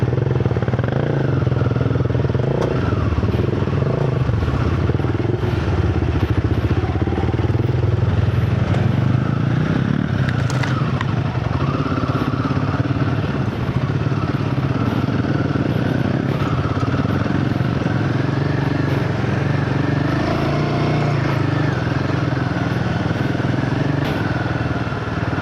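A motorcycle rides a rough jeep trail to the Baamikonda viewpoint, its engine droning steadily and loud throughout, with clattering bumps over the uneven ground.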